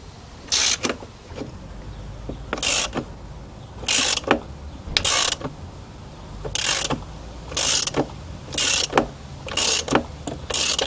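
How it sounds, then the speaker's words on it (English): Repeated ratchet clicking from a chain breaker tool being turned to push a pin out of a motorcycle drive chain, about nine short bursts of rapid close clicks with brief quiet gaps between them, no talking. "that's why I'm using this ratchet now"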